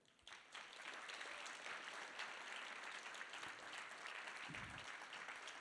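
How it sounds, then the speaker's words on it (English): Applause from an audience at a startup showcase for the winning team starts within a moment and holds as steady, moderately distant clapping, with a low thump near the end. "please give a round of applause to Colorifics, the winners of the Wide Impact Startup Showcase 2023"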